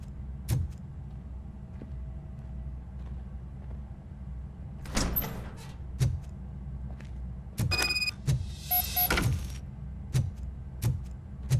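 Car door handling in the game RoboCop: Rogue City: clunks and thuds spaced across several seconds, a metallic rattling latch and door movement in bursts, then more sharp knocks, all fairly close with no talking.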